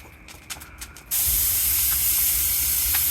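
Compressed air suddenly blasts into a homemade furnace, a loud, steady hiss that starts abruptly after a second of quieter clicks and rumble and continues to the end.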